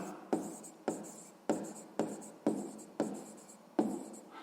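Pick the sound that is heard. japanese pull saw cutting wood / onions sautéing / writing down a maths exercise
writing down a maths exercise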